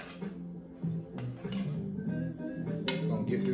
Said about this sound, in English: we're gonna put our sausage and peppers into our skillet bowl